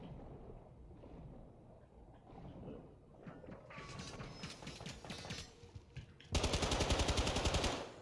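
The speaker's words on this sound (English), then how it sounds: "Is somebody shooting at us?" Rapid automatic gunfire in a video game, bursts and single shots building over several seconds into a loud sustained volley of machine-gun fire near the end.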